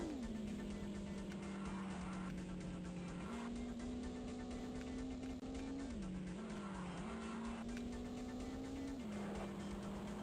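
A Subaru rally car engine drones steadily in the N64 racing game Top Gear Rally, its pitch rising and dipping with gear changes under faint tire noise throughout.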